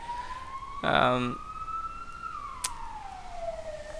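A police car siren wails outside, a steady rising and falling tone heard from a distance, with a brief louder burst of noise near the start.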